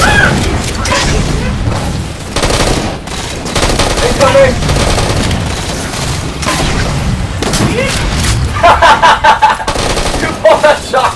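Gunfire in the Halo 4 video game, including shotgun blasts, bursts in loud repeated volleys and booms amid chaotic combat, with players talking over the action.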